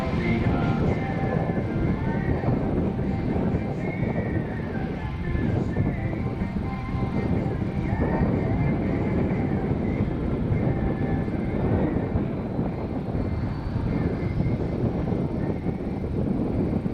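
A military jet, a C-17 or KC-135, roars past at the Rochester airshow under cloudy skies, a steady, loud rumbling engine noise that echoes back from the clouds and holds for the whole stretch without clear talk.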